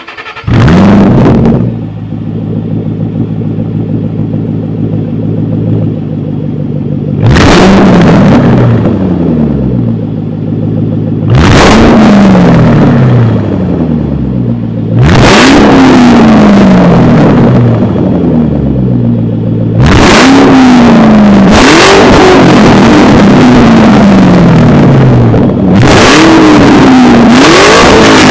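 A 2013 Ford Shelby GT500's supercharged 5.8-liter V8 revs loud and close, roughly six sharp throttle blips rising and falling over a rumbling idle, with no talking.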